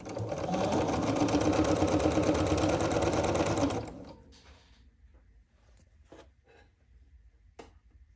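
Sewing machine stitching quilt fabric, a fast, loud, even mechanical whirring rattle for about four seconds, then it stops, leaving faint handling clicks and rustles.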